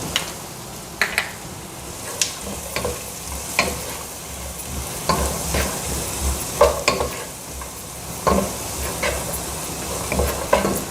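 Carrots and peas sautéed with butter in a pan for veg pasta give a steady sizzle, broken by repeated scraping stirs of a spoon every second or so, close and clear with no talking.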